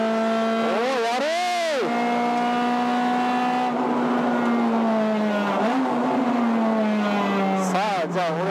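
Onboard a stripped Honda Civic EK4 with a swapped B18C engine lapping Okayama circuit, the engine screams and rises through gears with sharp shifts and downshift blips, loud and close, while someone talks over it.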